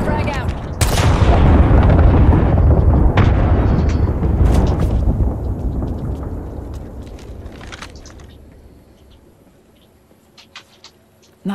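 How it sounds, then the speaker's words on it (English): A frag grenade in Apex Legends goes off with a loud, close blast, and its roar slowly decays over several seconds into quieter game sounds, with a few scattered pops afterward. "Frag out."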